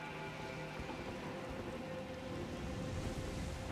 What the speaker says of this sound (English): Okay, we got some rain over here now.